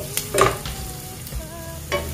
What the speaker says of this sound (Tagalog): So ayan, medyo nag-isa na natin yung ating garlic.